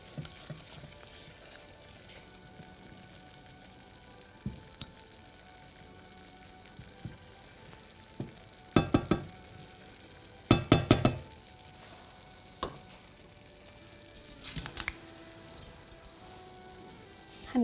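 Flour cooks gently in a pan, kept pale and stirred steadily, giving a soft continuous sizzle broken by a few sharp clinks and scrapes of the spoon against the pan.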